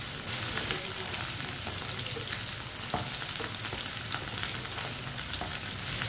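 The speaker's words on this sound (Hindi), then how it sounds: "आप देख सकते हैं भिंडी को मैंने 3-4 मिनट के लिए फ्राई कर लिया है।" Okra frying in a pan, giving a steady, dense sizzle that runs unbroken and fairly close, with no talk over it.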